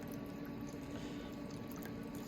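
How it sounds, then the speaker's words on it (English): A shaken cocktail sweetened with simple syrup is poured from the shaker, giving a faint, continuous liquid trickle with no voices. "All right, so it's shaky time. And we pour."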